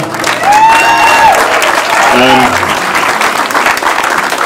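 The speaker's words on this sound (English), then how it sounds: "So big round of applause for him becoming a father." Loud audience applause congratulating a new father at a family gathering, dense clapping throughout with a voice speaking over it partway.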